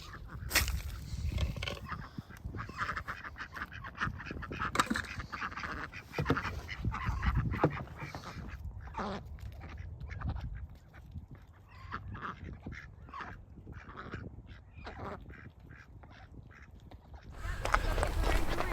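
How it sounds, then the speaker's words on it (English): Ducks quack steadily on a farm at sunset, with many overlapping calls in a busy chorus that continues throughout at moderate distance. "Ducks, ducks, ducks."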